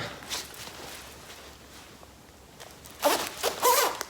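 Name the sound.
jacket zipper being zipped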